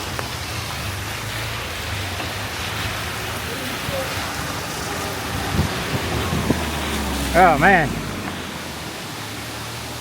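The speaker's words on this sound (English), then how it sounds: "going right under a waterfall here" A waterfall roars as a vehicle passes right under it on a bumpy rocky road in Indonesia, a dense steady hiss of falling water with engine rumble beneath, close and loud, while a man briefly exclaims.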